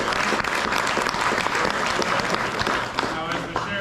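A theater audience at a performing arts center breaks into a dense, sustained round of applause that fills the room, with a few voices mixed in beneath it.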